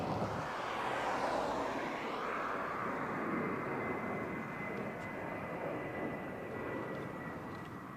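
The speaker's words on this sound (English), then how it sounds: "Where's our stylish Cathay Pacific gone? Just slinking out of view." A Cathay Pacific airliner taxis at Barcelona El Prat airport, its engine roar a steady, broad wash that stays loud and close throughout, easing slightly toward the end.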